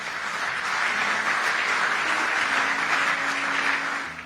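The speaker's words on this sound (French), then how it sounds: "On peut acclamer, pourquoi pas." A congregation applauds during a sermon, dense and steady clapping that fills the room and fades out at the end.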